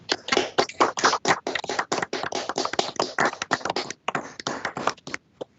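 Scattered applause over a video call from a small group at a court ceremony for new attorneys, choppy and uneven as if passing through microphones, with claps bunching and thinning over several seconds.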